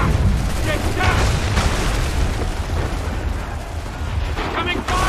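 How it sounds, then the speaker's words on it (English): Incoming artillery fire in Assassin's Creed III, with booming blasts and crackling gunfire in a dense battle din, loud and continuous, with shouting voices mixed in. "Incoming fire!"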